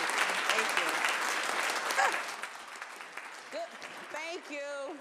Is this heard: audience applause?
yes